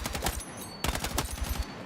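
An automatic rifle in Battlefield REDSEC fires rapid full-auto bursts of sharp gunshots, a short string, a brief break, then another string, loud and close with no talk.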